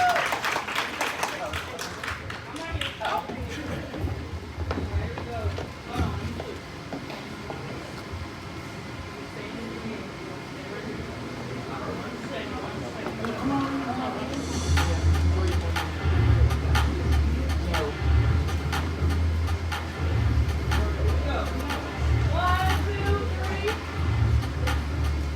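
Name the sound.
audience round of applause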